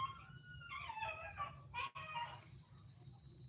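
A dog barks in a short run of a few yelps at moderate distance in a quiet rural farm setting, with no talking over it.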